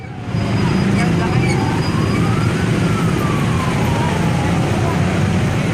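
An ambulance siren wails with slow rising and falling sweeps during a large crowd gathering, loud and continuous over heavy traffic and crowd rumble.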